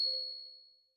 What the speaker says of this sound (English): Notification sounds contains collection of best notification tones and message sounds.